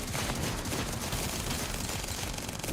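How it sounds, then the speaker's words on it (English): Dense, continuous gunfire from weapons in The First Descendant, a steady rapid barrage that stays loud and unbroken throughout. "Shoot the required number of bullets"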